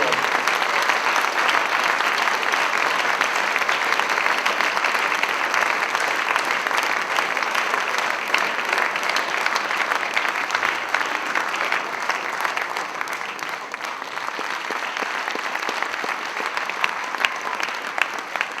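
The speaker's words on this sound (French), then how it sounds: "Je crois qu'on peut encore applaudir une fois tous ces sportifs méritants" An audience applauds athletes at a sports day event, sustained broadband clapping from many hands that holds steady throughout and tapers slightly toward the end.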